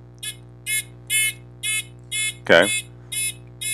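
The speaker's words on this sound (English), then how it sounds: "the Arduino is able to get the buzzer to go on" A buzzer wired to an Arduino pin beeps in short, evenly spaced pulses, about eight in all, over a steady electrical hum, with a brief spoken word cutting across one beep.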